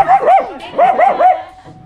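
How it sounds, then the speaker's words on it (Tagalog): Small dog barking in a rapid burst of sharp yips, two quick groups of barks close by, then a short pause, outdoors at a home in the Philippines. "Cute ng aso ni sir."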